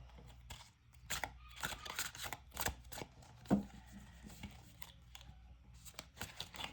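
Tarot cards are shuffled by hand, a faint stream of soft papery riffles and taps with irregular rhythm, close and quiet, without speech.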